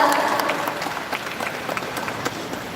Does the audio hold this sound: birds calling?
no